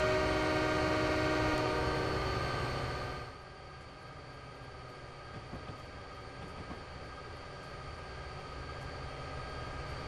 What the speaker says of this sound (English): Everyone likes the horn.